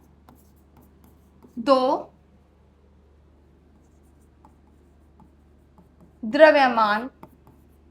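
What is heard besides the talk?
writing a definition by hand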